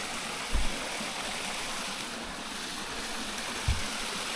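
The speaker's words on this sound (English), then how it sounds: "Now here's some running water over here." A forest stream runs near a beaver dam as a steady rush of flowing water, with two brief low thumps partway through and no talking.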